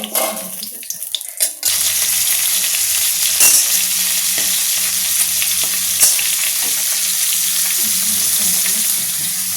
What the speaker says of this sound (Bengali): এবার ভাপিয়ে রাখা কাঁকড়াগুলোকে হালকা করে ভেজে নেবো, তার জন্য কড়াইতে তেল দিয়ে